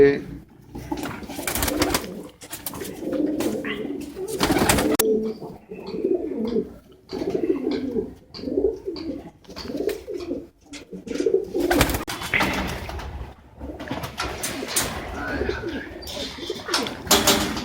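Pigeons in a loft coo repeatedly in low, throaty rolling phrases, close and fairly loud, with occasional wing flutters, while someone talks over them at intervals.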